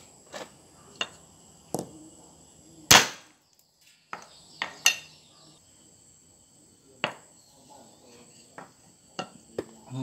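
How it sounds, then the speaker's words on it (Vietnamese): Light hammer taps cracking the hard shell of a peach seed, a series of sharp, close knocks at irregular intervals over a faint insect-like background hiss, one strike much louder than the rest. "Sau khi mình gõ nhẹ cái hạt thì hạt cái lớp vỏ cứng này bên ngoài nó sẽ vỡ ra"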